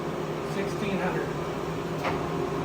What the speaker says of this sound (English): And that's a 1600 RPM. That's a super quiet spindle.